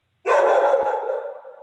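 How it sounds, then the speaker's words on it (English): A dog barks loudly indoors during a city council meeting held over Zoom, giving one long, drawn-out bark that trails off gradually without any talk over it. "my dog is going nuts."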